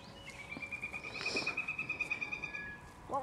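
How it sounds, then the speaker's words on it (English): A single bird call sounds as a rapid, wavering run of high notes over a quiet rustling background. "It was a bird."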